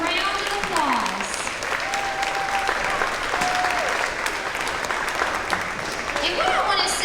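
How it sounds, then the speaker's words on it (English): A school audience applauds chorus members at a third-grade promotion ceremony, with steady, sustained clapping filling the room throughout and faint voices mixed in beneath it. "Let's give our chorus members a round of applause."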